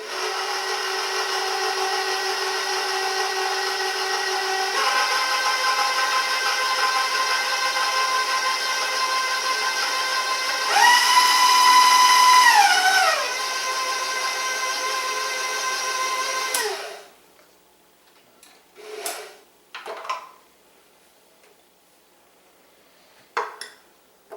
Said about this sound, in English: you know what happens when you first turn on the blender.